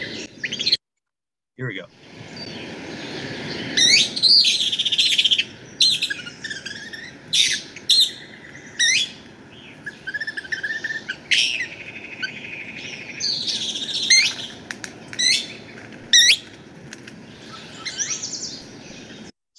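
Kingbird calls from a birding recording played back for southeast Arizona, a series of sharp chattering chirps and squeaky twittering notes in irregular bursts, heard fairly faint after a brief spoken line.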